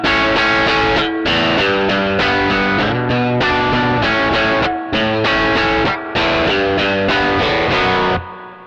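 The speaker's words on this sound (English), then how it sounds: "That was that was distortion or hard clipping." Heavily distorted electric guitar, run through a hard-clipping distortion pedal, plays a loud riff of chords with brief stops between phrases, ending in a sustained ringing chord.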